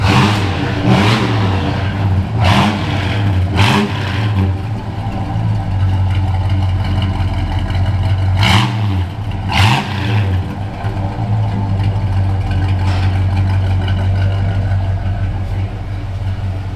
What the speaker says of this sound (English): Rev on it a little bit.